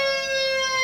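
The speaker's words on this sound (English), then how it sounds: "get ready for another half step bend, but it's a ghost bend" Electric guitar playing a half-step ghost bend, a single sustained, bright, distorted note ringing steadily and close throughout the short moment.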